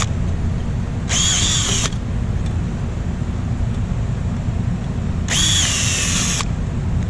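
Two bursts of a power drill enlarging rivet holes in aircraft sheet metal held with clecos, each lasting about a second, over a steady low hum of background machinery.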